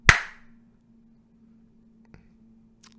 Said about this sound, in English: if I clap my hands together,